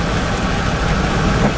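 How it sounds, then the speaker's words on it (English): Light rain drizzling outdoors during a stormy day, a dense, steady hiss of fine drops pattering close by with a faint low rumble beneath, continuous and unbroken for the short stretch. "It's just drizzling now"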